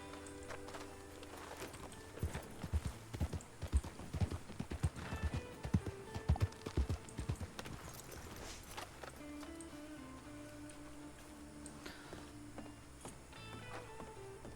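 Rhythmic horse hooves clip-clopping on a ridden horse near a city bridge in Saint Denis, a steady patter of hoofbeats over a busy, music-filled background.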